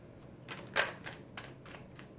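Tarot cards handled and shuffled up close, giving a few soft papery flicks and riffles with one sharper snap partway through, quiet and with no talking.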